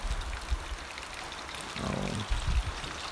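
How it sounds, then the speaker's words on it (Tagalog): Water poured into a pot of pork leg being cooked for crispy pata, a brief splashing pour partway through, fairly quiet amid kitchen clatter. "binusan na ng tubig"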